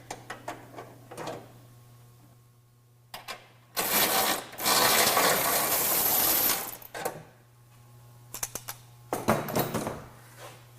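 Metal bumper hardware on a 2015 Ford F-150: a nut and stud plate being worked off the back of a Go Rhino BR5 front bumper, with a sustained rough ratcheting burst in the middle and scattered clicks and clanks around it, close and fairly quiet.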